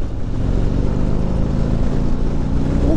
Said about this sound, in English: This thing's got a lump of an engine in it.